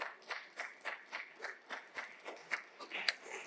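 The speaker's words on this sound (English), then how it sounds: "join me in a round of applause for these 7 incredible people" Applause from a conference audience at a Belgian composites event, fairly faint and distant, with a steady rhythm of claps through the whole stretch.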